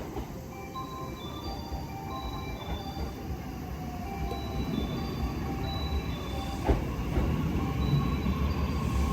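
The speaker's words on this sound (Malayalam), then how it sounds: "നിങ്ങൾക്ക് ട്രെയിനിൻ്റെ സൗണ്ട് കേൾപ്പിച്ച് തരാൻ വേണ്ടിയിട്ടാണ് ഞാൻ വോയിസ് ഓവർ കൊടുക്കാഞ്ഞത് കേട്ടോ." A train pulls into a railway station in Japan with a steady, close rumble of wheels and carriages, thin squeals and hums rising and falling over it, and a single clunk near the end; no one speaks.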